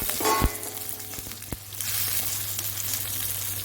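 Carrots, tomatoes and chillies sizzle in a hot pan for a lunchbox recipe, a steady crackling fry broken by a few sharp clinks and stirring scrapes early on, then a fuller, louder hiss.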